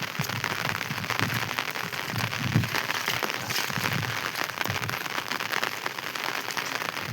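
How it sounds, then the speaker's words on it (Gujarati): Heavy rain keeps falling on a flooded road at night, a dense, steady patter and crackle of drops on surfaces that lasts throughout with no voices. "હજી વરસાદ તો ચાલુ જ છે।"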